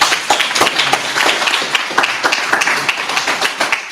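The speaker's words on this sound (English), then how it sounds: "Can we give our brother a round of applause?" A round of applause for a speaker at a mayoral candidates' forum, close and fairly loud, with individual claps clearly audible in a busy, uneven patter that stays steady throughout.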